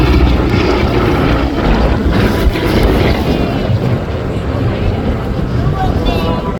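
A T-6 trainer aircraft flies past at the Wings over Houston air show, its engine a steady, loud, broadband drone mixed with wind rumble, with indistinct voices murmuring underneath.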